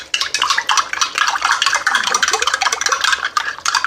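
Spoon stirring candied sweet potatoes in baking soda water inside a pot, a steady scraping and clinking of metal against the cookware with wet, sloshing texture throughout, close and fairly loud.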